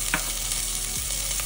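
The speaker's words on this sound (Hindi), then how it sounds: "सबसे पहले डाल दी हमने प्याज" Onions frying in hot oil inside a very hot pressure cooker over low gas, a steady close sizzle with a few brief stirring clatters and no talking.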